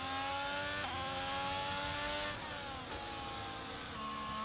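Ferrari Formula 1 car engine in the racing game F1 22, a high-pitched screaming V6 hybrid at sustained revs with brief drops at gear shifts and pitch slides, loud and continuous with no talking.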